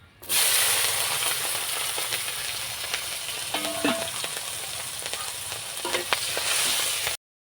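Slit green chilies fry in a hot pan, a loud, dense sizzle and crackle with stirring scrapes and light clinks throughout, ending abruptly, no speech.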